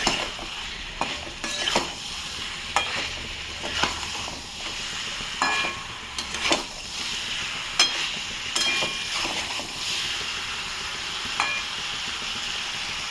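Cauliflower, potato and paneer curry stir-fried on high flame, with a spatula scraping the pan in repeated rhythmic strokes over a continuous close sizzle and no voices.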